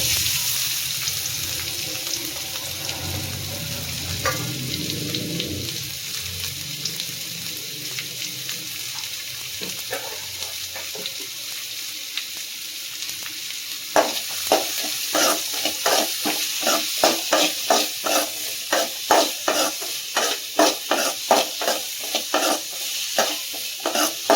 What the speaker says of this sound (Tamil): இப்போது கட் பண்ணி வச்சுருக்கிற வெங்காயத்தை இதில் சேர்த்துக்கலாம்